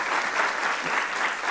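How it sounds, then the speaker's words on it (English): A crowd at a morning keynote address applauds in a short, continuous burst of dense, even clapping, full and sustained throughout. "Give yourselves a round of applause"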